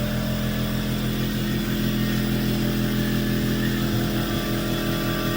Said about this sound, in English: Of course the compressor's got to come on.